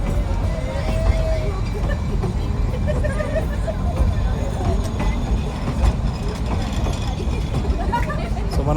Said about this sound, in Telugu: బండి బయలుదేరుతుంది, ఇప్పుడే స్టార్ట్ అయింది